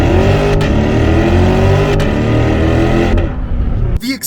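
A Chevrolet C8 Corvette launches from a standstill toward 60 mph, its engine roaring loud and close with rising harmonic sweeps through gear shifts, then the noise drops off abruptly near the end.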